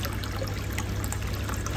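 Water runs steadily over a black stone mortar (kundi) being washed, a close, continuous trickling and splashing stream with no voices.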